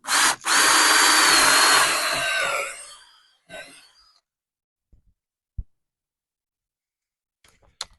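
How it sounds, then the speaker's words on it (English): A power drill bores through a raised sleeper koi pond wall, a loud close high whine lasting about three seconds that winds down, then a short second burst, followed by a few faint knocks and clicks. "I'm going to drill through the middle and come at it from the other side"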